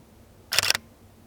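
A single crisp camera shutter click, close and brief, in an otherwise quiet room.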